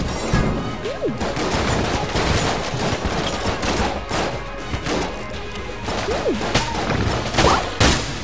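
Dense gunfire from the twin-stick shooter game Enter the Gungeon, a constant crackling barrage of bullets and impacts with occasional heavier crashes and whooshing effects, loud and continuous throughout.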